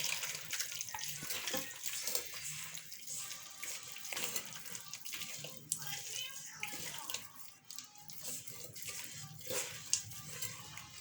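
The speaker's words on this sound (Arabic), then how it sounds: "دونك ها الكاس الاول ديال الماء" Water poured from a glass into pizza dough, a continuous splashing, trickling pour close by with speech faintly underneath throughout.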